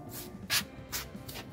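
A serviced garden sprayer releases short pressurized bursts, three distinct hissing sprays separated by brief pauses over a low background rumble, heard up close.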